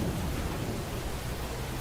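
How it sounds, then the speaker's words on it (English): Steady heavy rain with low rolling thunder, a dense continuous wash of noise heard alone with no voices. "You can hear the rain, the thunder, John."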